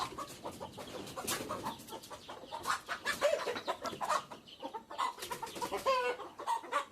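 Chickens, including a brown hen and guinea fowl, clucking and calling in a yard, with repeated close, irregular clucks and short squawks overlapping one another at moderate volume.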